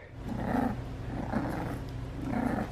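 A low, rumbling dog growl repeats in three long waves, steady and close, with no talking.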